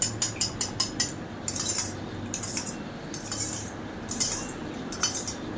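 A spoon stirs a hair remedy of oil and water in a bowl, starting with a quick run of rhythmic metallic clinks, then steadier scraping and tapping, close by.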